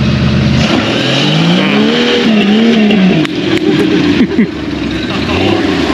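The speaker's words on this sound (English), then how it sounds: "We're drag racing." A carbureted car launches and revs hard at a drag race, its engine loud and close with rising and falling pitch sweeps over a steady roar, and a voice speaks in the middle.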